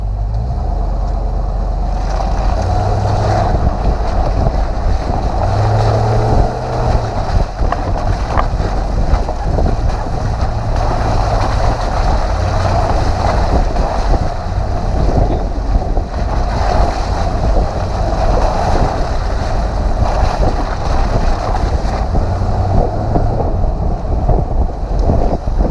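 A Land Rover 90 V8 engine drones while driving, a loud, continuous rumble mixed with heavy wind and road noise, with no talking.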